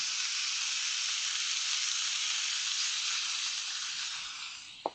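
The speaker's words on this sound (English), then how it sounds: "We got our griddle up to temp. So I'm just going to start out. I'm going to throw my bacon down." A full pack of bacon sizzles and fries steadily on a hot griddle, a loud, continuous crackling hiss that holds for several seconds before a brief clack near the end.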